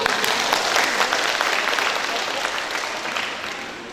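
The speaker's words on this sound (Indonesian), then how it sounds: "Tepuk tangan untuk beliau dulu." Audience applause for Pak Hanan Hamidi at a community distribution event for electric cooking appliances in Talun Kenas, dense steady clapping from a gathered crowd that slowly fades toward the end.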